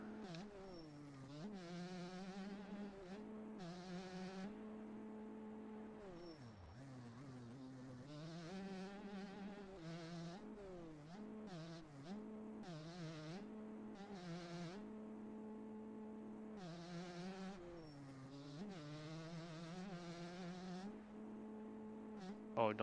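Four-stroke dirt bike engines in a racing video game rev and shift continuously, buzzing tones rising and falling as the throttle opens and closes, steady and unbroken throughout.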